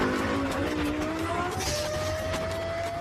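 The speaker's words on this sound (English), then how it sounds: "the sound of this high-revving engine is unmistakable." Loud, continuous wail of the Lexus LFA's high-revving engine, its pitch climbing steadily as it accelerates, with no talking.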